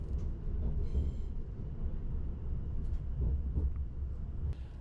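A c2c Class 720 train runs along the London, Tilbury and Southend line, heard as a steady low rumble from on board, with faint clicks and rattles over the track.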